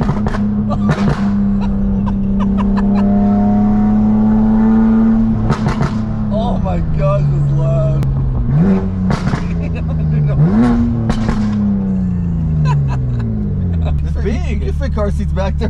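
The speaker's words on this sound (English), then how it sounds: "Love turbos. Sound like gunshots." An 800hp turbocharged BMW M2 engine holds a loud, steady rev, then dips and rises in pitch before settling lower, with sharp pops and brief voices breaking through near the car.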